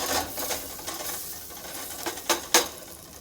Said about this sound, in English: you want to caramelize this these onions when you saute them